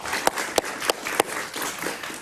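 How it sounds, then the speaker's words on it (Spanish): Studio audience on a Spanish-language talk show giving a short round of applause, a few sharp distinct claps standing out over a faint spattering of clapping that fades quickly. "Un aplauso para Luis Zelaya"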